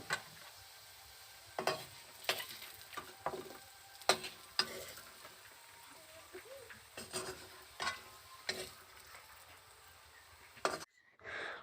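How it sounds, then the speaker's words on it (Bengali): Potatoes frying in a wok-style pan with a low continuous sizzle, broken by sharp spatula scrapes and knocks against the metal every second or so, ending in a brief pause and a final rustle. "আলুটাকে আর একটু নেড়ে নিচ্ছি দেখেই বোঝা যাচ্ছে আলুটাও খুব সুন্দর ভাজা ভাজা হয়ে গেছে"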